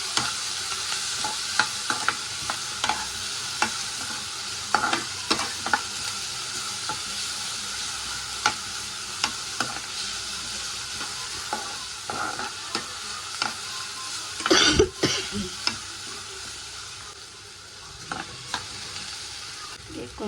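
Onions sautéing in a pan for goat blood fry, a steady broadband sizzle running throughout with frequent scraping stir clicks and a louder burst of spatter and ladle contact midway.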